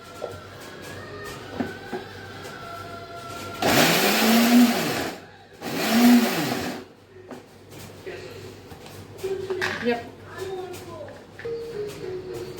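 A mixer grinder coarsely grinds corn kernels in two short, loud bursts, each whirring up and winding down, with people talking before and after.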